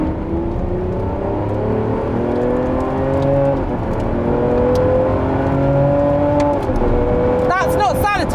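A Lamborghini Aventador SVJ Roadster's engine hums steadily while driving slowly around town in Strada mode, its tone gently rising and settling, with a voice talking over it throughout.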